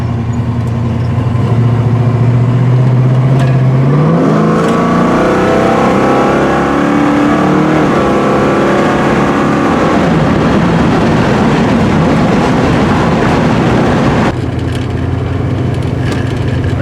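A 1968 Pontiac Firebird's engine revs loudly while driving, rising in pitch as it accelerates, then settles into a steady drone with road and wind noise. No one speaks.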